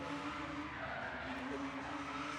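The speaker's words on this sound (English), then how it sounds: "Now, as we see Stephen Halferty ready himself to take his second run of qualifying." Faint, distant tire screech and engine roar from a BMW E36 Touring drift car sliding through a qualifying run at a drift round, a continuous muffled skid without breaks.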